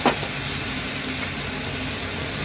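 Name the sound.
onion, ginger, poppy seed and mustard paste frying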